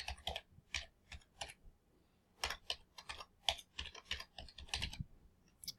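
Username and password typed on a computer keyboard, quiet close key clicks in quick irregular bursts with a short pause in the middle, no talking.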